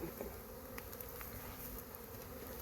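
Agitated honeybees drone continuously at an open hive in a bee yard, a dense steady buzz close by with no voices.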